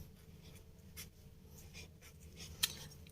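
Numbers handwritten into a talismanic naqsh grid give off soft, faint scratching strokes in short bursts over a quiet background hum, ending with one sharper tap near the close.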